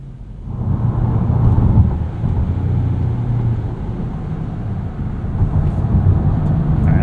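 A 2025 Ford Maverick Lobo in sport mode drives with a steady, loud engine and road drone heard from inside the cabin, a continuous low rumble with slight rises in pitch and no talking.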